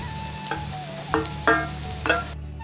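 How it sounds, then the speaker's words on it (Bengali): Chopped onion fries in oil for a water spinach stir-fry, a low sizzle under a steady background hum, punctuated by four spoon scrapes and clatters against the pan. "তেল আর কুচানো পেঁয়াজটা দিয়ে দিলাম"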